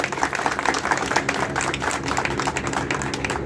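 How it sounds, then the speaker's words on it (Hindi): A political party gathering in India where an audience claps loudly for the district team, a dense and steady wash of applause filling the whole stretch with no talk over it. "तो मैं तो ये चाहूंगा कि एक बार जिले की टीम के लिए जोरदार ताली होनी चाहिए।"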